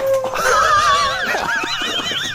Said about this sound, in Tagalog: Aso lang yun eh.